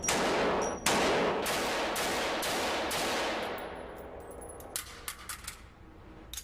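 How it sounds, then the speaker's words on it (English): Gunfire at a Federal Reserve police shooting range: a string of loud, sharp shots, each with a long ringing decay, followed by a quicker cluster of fainter pops toward the end, with no talking. "some of the facilities even have a private shooting range"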